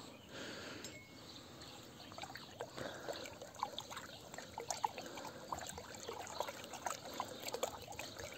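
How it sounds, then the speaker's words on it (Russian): Fertilizer is stirred into a bucket holding 20 liters of water for feeding strawberries, producing soft swishing, trickling and sloshing that grows busier over several seconds, close and quiet, with no voices. "И все тщательно перемешиваем."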